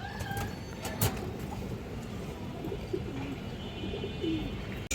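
Pigeons in a pigeon shop, including green-necked birds, coo softly and steadily against a busy low background rumble, with a few sharper chirps and knocks scattered through.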